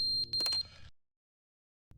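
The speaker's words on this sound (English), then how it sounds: "Smoke detector." Electronic beeping from a smoke detector in the video game The Stanley Parable: a few sharp, high-pitched chirps packed into the first second, then silence before a faint return of sound at the end.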